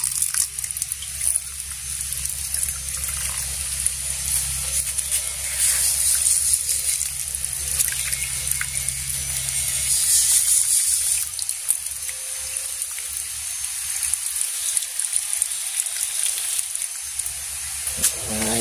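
Water pours steadily onto bonsai plants set in a bucket, a continuous hissing splash and trickle that swells slightly midway and carries on alone throughout.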